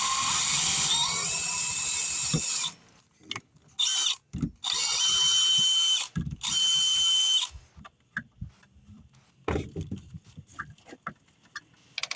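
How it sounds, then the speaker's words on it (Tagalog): A power drill bores a big hole into a wooden house cabinet in loud, sustained whirring bursts separated by short pauses, with a few clunks and handling noises in between. "So it's easy to drill in the wood."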